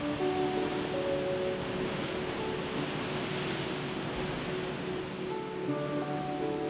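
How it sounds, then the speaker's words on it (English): Ocean waves churn and surge through Devil's Churn, a narrow rocky inlet on the Oregon coast, as a steady, loud roar of surf without pause, with no voices over it. "This impressive display of power from the ocean should be enjoyed with caution."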